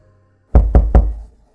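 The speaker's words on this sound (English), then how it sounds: "There came a tap at the door" Three loud, evenly spaced knocks on a door, close and alone, set in an audiobook reading of a ghost story.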